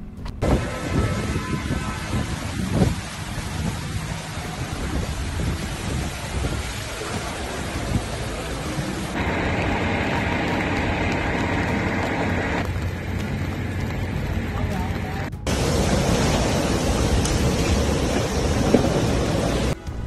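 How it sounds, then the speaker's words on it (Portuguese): Violent thunderstorm in Panama City with heavy rain and hurricane-force winds, a loud continuous roar of downpour and gusts with rumbling thunder, intensifying in surges throughout. "uma fortíssima tempestade com ventos de furacão causou muita destruição na cidade do Panamá"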